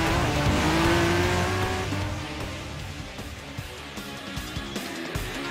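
Honda NSX Group 4 race car in Gran Turismo Sport, its engine note rising and falling through gear changes, with a brief tire squeal, fading slightly as the car pulls away.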